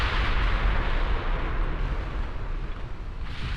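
Naval gunfire and shell explosions in the naval warfare game Ultimate Admiral Dreadnoughts, heard as a loud, continuous low rumbling roar of distant heavy guns with no distinct single shots and no talking.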